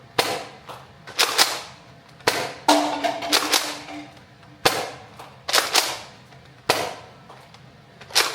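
Toy foam blasters fire a string of sharp snapping shots at uneven intervals, each a crisp pop with a short mechanical rattle, loud and close.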